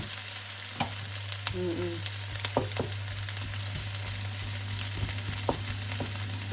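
Garlic and chunks of meat sauté in a hot pan for Filipino caldereta with a steady, close sizzle. Scattered clicks and scrapes of stirring come through, and no one speaks.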